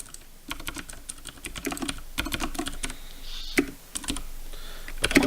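Rapid typing on a computer keyboard, a dense run of close, crisp key clicks in bursts with brief pauses and a few louder strokes, heard alone with no voices.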